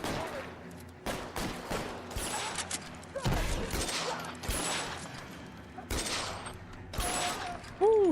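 Scattered gunshots ring out in the detective game L.A. Noire, a series of sharp separate bangs over several seconds against mechanical creaks and background game sound.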